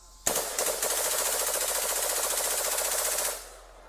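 Gunfire bursts out suddenly and keeps going as one sustained, loud, rapid rattle for about three seconds, then cuts off, with no voices.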